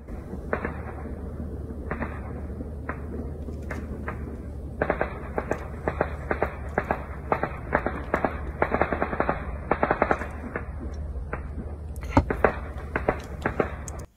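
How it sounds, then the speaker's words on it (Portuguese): Rapid, irregular sharp bangs and bursts of explosions crackle at night at a distance over a constant low rumble, with denser volleys toward the end. "as explosões à noite"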